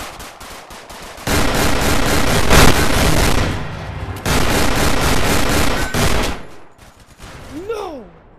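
Rapid automatic gunfire in a Roblox VR war game, long dense loud bursts separated by short pauses, ending with a sweeping whistle-like tone, no speech.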